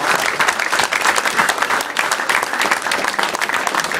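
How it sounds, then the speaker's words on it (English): An audience at the Two Tone Village presentation applauds as Clive Blackburn accepts a plaque, a dense, even patter of many hands clapping close and loud, sustained throughout with no voices over it. "Ladies and gentlemen, a big round of applause."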